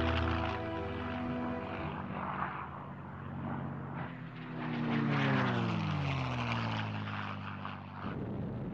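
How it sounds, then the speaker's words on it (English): A WWII long-range bomber escort fighter powered by a British-made Rolls-Royce Merlin engine drones loudly and steadily, its propeller pitch sweeping as it passes close by. "The US engine had been replaced by a British-made Rolls-Royce Merlin"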